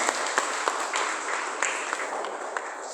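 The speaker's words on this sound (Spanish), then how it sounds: "Dale un aplauso al Señor" A church congregation bursts into brisk, sustained applause, close and loud, with individual sharp claps poking through the wash.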